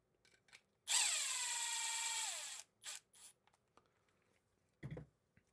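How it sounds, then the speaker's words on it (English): A power drill whirs once for under two seconds, its pitch dropping as it bites into a plastic part, followed by a few short clicks and clatters in a quiet room. "That way I can drill these out straight."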